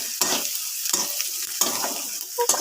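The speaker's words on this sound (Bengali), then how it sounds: "আমি সেইভাবে ভেজে নেবো যাতে পুরোটাই হয়ে যায় নেড়ে নেড়ে বেশ করে" Onions frying in a pan with salt and turmeric, stirred with repeated scraping strokes over a steady close sizzle, about four stirs in quick rhythm.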